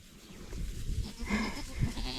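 Goats on a farm, including does, let out several short, nasal bleats at close range on a hot, humid day, over soft rustling and shuffling, with no voices heard.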